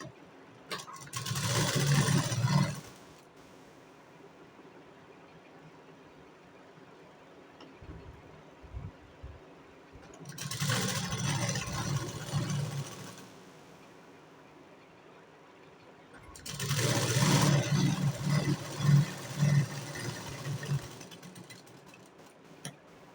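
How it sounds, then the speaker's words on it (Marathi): A sewing machine stitching a blouse runs in three separate bursts of a few seconds each, a loud mechanical whir with quieter gaps in between and no talking. "मी तुम्हाला डायरेक्ट शिलाई मारून दाखवते याच्यावरती"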